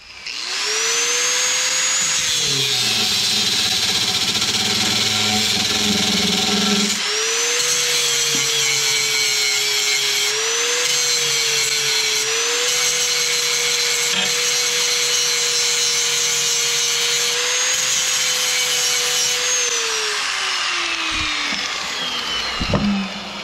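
A cutoff wheel on a power tool screams steadily through a metal post on a transfer case shifter linkage, loud and close, pitch dipping slightly under load before winding down.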